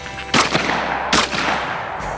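Two sharp shotgun blasts at clay targets, about a second apart, loud and close with a ringing tail after each.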